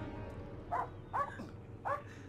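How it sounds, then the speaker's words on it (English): A dog barks in the World War I video game Valiant Hearts: The Great War, three short muffled yelps spaced across a couple of seconds over a steady low game soundtrack, fairly faint and without speech. "By the way, Cassie was barking."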